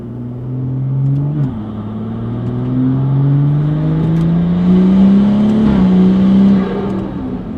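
A BMW F30 sedan accelerating at half throttle, its engine tone climbing steadily through the gears with a brief dip at each shift, loud and close with a constant interior rumble and no talk.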